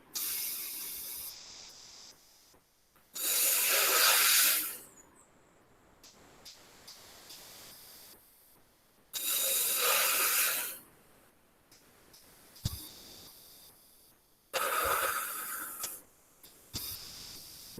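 Three loud, breathy hisses of air exhaled through the nose during Sheetali pranayama yoga, each lasting one to two seconds and separated by quiet pauses, close and alone.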